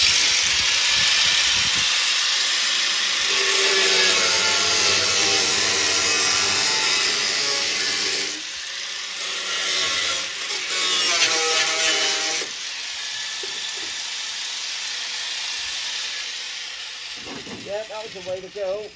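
Welding on a Volkswagen Karmann Ghia body panel in a workshop, with a loud, steady crackling hiss that runs for several seconds, stops, and resumes in bursts, with brief speech between.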